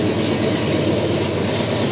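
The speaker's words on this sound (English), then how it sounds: "Got a train going by pretty loudly." A train passes near a construction site, a loud, steady rumble with rail noise that fills the whole moment without pause and with no voices over it.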